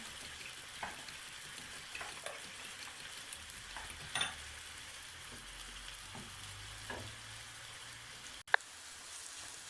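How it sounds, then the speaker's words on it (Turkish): Eggplant and peppers fry in a pan, a soft, constant sizzle with a few faint stirring scrapes and one sharp click near the end, quiet and with no voices. "Evet arkadaşlar patlıcanımız da güzelce kavruldu biberimiz de"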